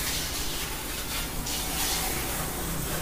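Pressure washer spraying the underside of a car at a quick car wash, a continuous hissing, splashing rush of water that stays loud and even throughout, with no voices.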